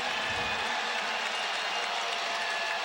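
A basketball arena crowd roars and cheers for Michael Jordan in a steady, dense wash of noise, sustained and fairly loud from start to finish.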